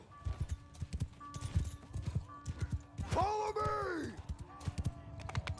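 Horse hooves clip-clopping in the multiplayer game Mount & Blade II: Bannerlord, a steady galloping rhythm with a loud whinny in the middle and game ambience throughout.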